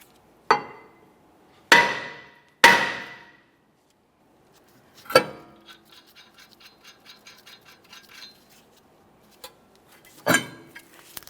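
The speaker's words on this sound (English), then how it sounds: "I'm going to use a hammer and we'll lightly tap on the brake rotor itself" Several sharp metallic hammer strikes ring out on a rear brake rotor of a 2015-2019 Subaru Outback, a few quick taps then spaced blows, each with a bright ringing decay, close and loud.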